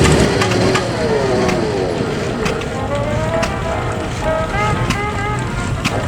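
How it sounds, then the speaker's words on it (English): American vintage cars from the American Auto Club display parade into the ring at the Anglesey Vintage Rally, engines rumbling steadily under a broad outdoor wash of wind and background noise. "So the American cars are leading the parade into the ring"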